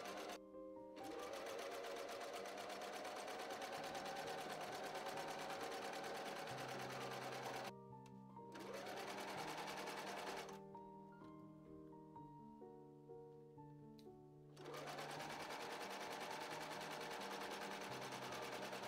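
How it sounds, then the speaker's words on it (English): A sewing machine runs in long continuous stitching bursts along the back seam of a dress skirt, steady and close, with brief pauses between runs and faint music underneath. "I overlocked and then stitched together the back seam of the skirt."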